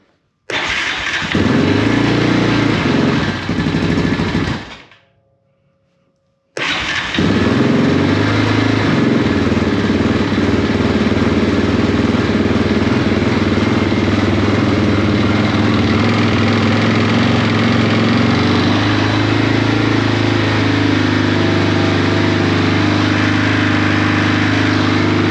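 Engine of a 2001 Yamaha Raptor 660R ATV with many issues cranks and catches, runs briefly, cuts out for a couple of seconds, then restarts and settles into a loud, steady close-up idle with slight throttle variations.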